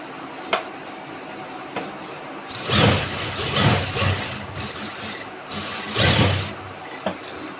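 A sewing machine stitches a cut suit along a marked line. A few short mechanical whirring runs rise and stop amid faint background noise, close by.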